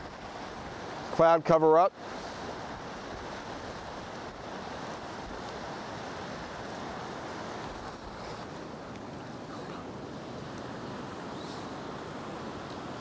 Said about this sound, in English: that wind is getting blustery again